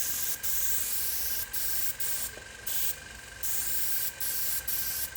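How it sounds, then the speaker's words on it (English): Short bursts of aerosol spray hiss repeat in an uneven rhythm, close by, as leather colour coating is sprayed onto a leather car door card, with steady background hiss between them and no talking. "So spray on your second coating."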